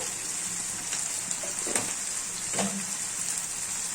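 Onions and tomatoes with salt sautéing in a pan for mutton kola kulambu, a soft steady sizzle with a few brief stirring scrapes, close and fairly quiet, no talking.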